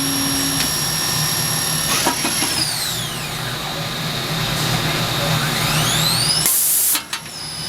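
Tsugami SS-20 CNC Swiss lathe with B-axis lathe head running at 6,000 RPM, a loud continuous machine hum with high whining tones that sweep up and down as the spindle changes speed, ending in a short burst of hiss.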